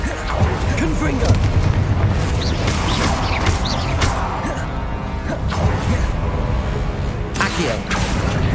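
A Confringo spell explodes during Hogwarts Legacy combat. Booms and whooshes sit in a dense, continuous wash of battle noise while voices shout throughout.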